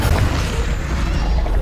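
Fiery Confringo spell blast in the video game Hogwarts Legacy, a loud, low booming burst with rumbling weight that fills the short moment alone, with no talking over it.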